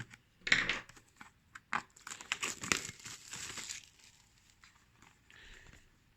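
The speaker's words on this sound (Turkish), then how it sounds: "Şu anda BE62'yi e, açacağız. Kutusunu inceleyeceğiz. E, şöyle bu Kutuyu açalım." Unboxing a Torima BE62 wireless earbuds box: close, crisp crinkling and tearing of packaging in irregular bursts, tapering off to faint rustling.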